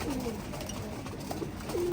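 Pigeons kept in a loft, with males and females housed on separate sides, coo in low bursts against a steady murmur of birds, close and continuous.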